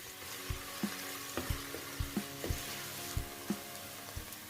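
A spoon stirs seafood okra soup in a pot over medium heat, scraping and knocking in a steady rhythm of about two strokes a second over a soft, continuous sizzle, close and fairly quiet.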